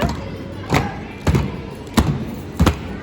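A child hammering moles in a whack-a-mole arcade game: four separate dull thumps, spaced irregularly less than a second apart, heard over a low background murmur.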